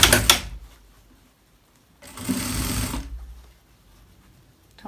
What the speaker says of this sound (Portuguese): E eu vou passar uma costura agora pra poder prender a parte de dentro